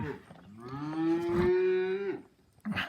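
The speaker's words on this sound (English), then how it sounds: "I got cows up here in the lot." A single long, loud cattle moo rises and holds for over a second, close by in a farm lot, with faint rustling before and after.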